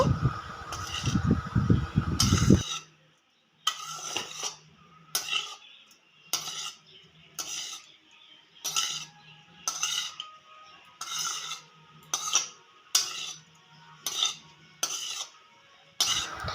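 Metal spatula scraping and clinking in a pan while egg fried rice is stirred over low gas, a steady series of separate scrapes about once a second, close and moderately loud, with a faint low hum between strokes.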